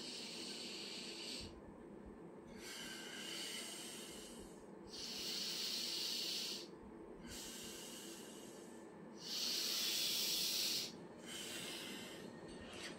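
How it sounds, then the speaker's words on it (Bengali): Fast alternate-nostril breathing, in through the right and out through the left, makes loud airy nasal rushes in long alternating bursts, each lasting a second or two, close and alone with no talking. "ডান নাক দিয়ে আমি নেব, বাম দিয়ে ছাড়বো"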